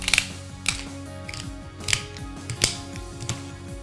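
Sharp plastic clicks from a drug-test sample container lid being screwed shut, several separate ratcheting bursts spread out in an irregular rhythm, close and crisp over a quiet low hum.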